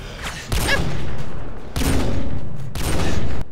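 Gunfire in the Call of Duty Modern Warfare video game comes as three loud, sustained bursts of rapid shots. Short breaks separate the bursts, and the sound is close and dominant.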